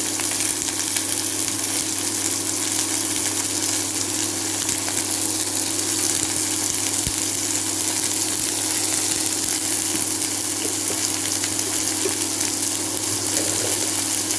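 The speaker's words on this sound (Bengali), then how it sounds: "তারপর আমি এর মধ্যে নুন, হলুদ দিয়ে মিষ্টি দিয়ে নাড়ব।" Kata data (drumstick stalk) curry with salt, turmeric and sugar cooking in a pan, a steady sizzling hiss with a low constant hum underneath and no talking.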